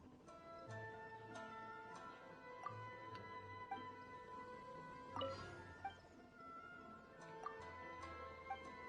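A cat meows in the Inazuma region of Genshin Impact over light game music with ticking notes. The meows are short, soft and spaced apart in a quiet scene.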